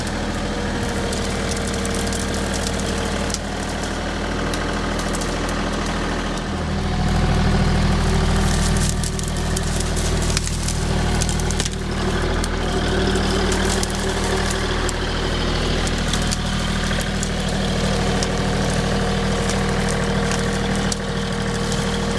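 A tractor loader's engine runs steadily while pulling old fence posts with a tree puller, a loud continuous diesel drone that swells briefly as the engine works harder, then settles back to an even rumble.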